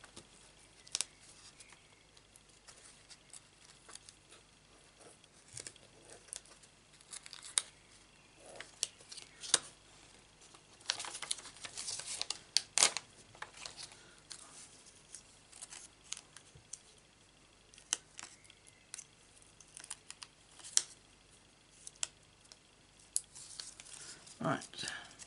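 Scissors cut through paper for a papercraft card, giving scattered small snips and crisp ticks spread over a long stretch, close but faint, with quiet room noise between the cuts.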